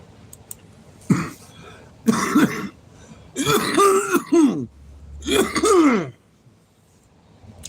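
Someone with allergies clears their throat and coughs four times in separate bursts, close and loud, with harsh raspy groans between short quiet gaps.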